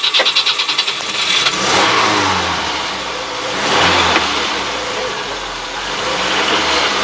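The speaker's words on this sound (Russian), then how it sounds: "Давайте, старт инжин." A car engine cranks in a few quick pulses, catches, and then revs up and down in loud, swelling waves before settling into a running drone.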